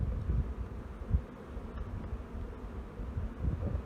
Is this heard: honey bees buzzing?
yes